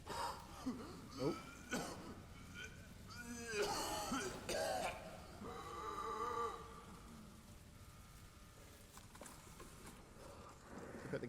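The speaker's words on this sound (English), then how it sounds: "He's obviously taking the mask off to cough, which probably isn't completely ideal." A Chernobyl liquidator with a gas mask gives several harsh coughs and throat-clears close by in the first few seconds, then a soft rain-like hiss carries on alone.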